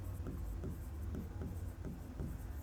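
Chalk or marker writing on a classroom board in a biology lesson, steady scratchy strokes repeating in short rhythmic bursts, close and fairly quiet over a constant low room hum.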